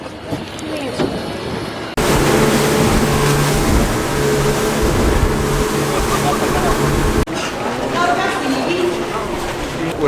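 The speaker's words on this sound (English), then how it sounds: "Took the speedboat again." A speedboat runs over the sea off Koh Lan, Thailand, its loud steady engine roar and water rush filling most of the stretch, with quieter boat ambience and distant voices at the start and end.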